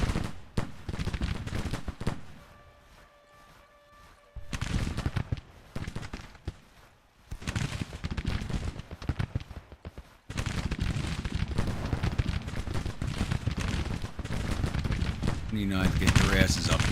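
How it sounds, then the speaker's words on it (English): Civil War gunfire in the Grand Tactician strategy game crackles in dense, ragged volleys of musketry with heavy bursts and brief lulls, loud and sustained throughout the battle. "it looks like they're starting to return fire in our direction"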